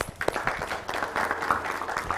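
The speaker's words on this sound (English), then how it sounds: "Let's give you a round of applause" Applause from the audience at a book launch on technical and vocational training in Kenya, a moderate burst of irregular clapping with some voices mixed in.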